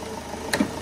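A short burst of a police van's engine running, heard close by with a steady low hum and a brief sharp transient partway through.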